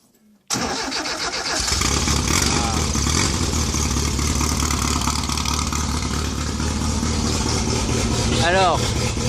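Engine of a 1973 Alpine V85 1300 VC sports car catching and running loud and steady after a brief silence, a rough mid-pitched idle with revving surges, close to the microphone, while people talk briefly.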